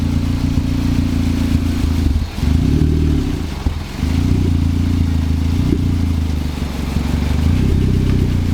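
A turbocharged 1ZZ Toyota MR2 engine roars steadily at high revs on a dyno, dipping briefly twice before climbing again, loud and close with a rough, throaty drone.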